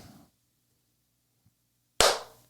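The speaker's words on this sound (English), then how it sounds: "we did the clap" One sharp, loud hand clap rings out alone after a long quiet pause, following a brief murmur of voices at the start.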